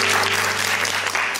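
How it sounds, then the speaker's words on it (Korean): A lecture hall audience applauds the speaker after a talk, a loud, full burst of sustained clapping with a faint steady hum underneath and no speech. "오늘 좋은 강연 들려주신 우리 조승현 작가님께 다시 한번 박수 부탁드리겠습니다"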